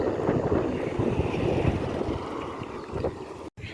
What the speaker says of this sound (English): It's too windy though.